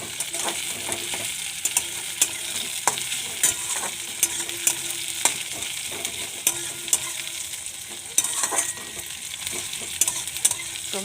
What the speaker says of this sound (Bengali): পেঁয়াজটা ভেজে নিই, পেঁয়াজটা ভাজা ভাজা হোক।